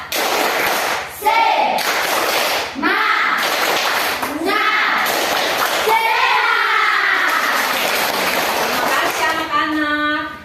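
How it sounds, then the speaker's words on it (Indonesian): A fifth-grade class performs a rhythmic spirit clap, bursts of patterned clapping from the children mixed with their chanting voices, loud and close in the classroom. "kelas 5 tepuk semangat"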